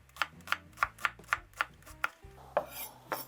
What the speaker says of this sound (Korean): 이렇게 이제 칼집을 내줍니다 이렇게 해갖고 이제 잘잘하게 썰어주세요